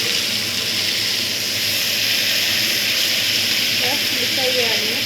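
Fish frying on a tawa: a loud, steady sizzling hiss fills the whole stretch, and a voice talks faintly beneath it.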